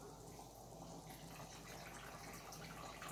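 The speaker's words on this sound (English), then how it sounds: "Then you're going to be adding your water. Don't go over the fill line." Water pours steadily into jars of pinquito beans being filled for canning, a continuous close, even splashing rush with no pauses for the whole stretch.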